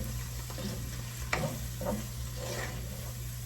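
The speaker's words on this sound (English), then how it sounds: "Now give it a good stir." Vegetable fried rice is stirred in a hot pan, a spatula scraping and tossing it in a few soft strokes over a constant background sizzle and hum.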